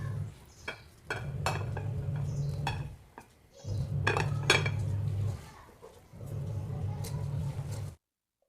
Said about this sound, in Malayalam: ഫ്ലെയിം ലോ ഫ്ലെയിമിലാക്കിയിട്ട് ഒന്ന് മിക്സാക്കി എടുക്കാം